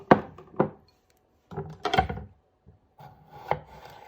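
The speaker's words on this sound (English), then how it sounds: "I'm gonna cut them in half." A knife halves fingerling potatoes on a wooden board, producing sharp, close chops in small clusters separated by short pauses.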